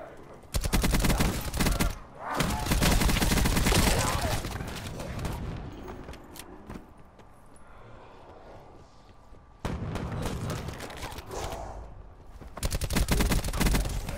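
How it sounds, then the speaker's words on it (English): Sniper fire and other gunshots in the Call of Duty Black Ops 4 Blackout battle royale game, loud bursts of rapid shots in several clusters separated by quieter gaps. "I'm getting sniped at."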